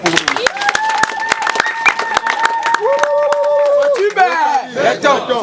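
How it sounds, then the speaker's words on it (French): Crowd at a political rally applauding loudly, dense clapping with cheers and shouts, while a voice speaks over it and sustained tones from a horn or chant hold above the noise. "Applaudissez très fort pour nous."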